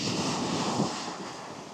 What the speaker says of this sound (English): There's waves coming in, but the sea's quite calm.